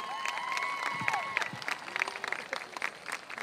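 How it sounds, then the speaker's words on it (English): Scattered clapping from a crowd at a Christmas event, with some cheering and whistling mixed in, lively but not very loud. "Give them a round of applause"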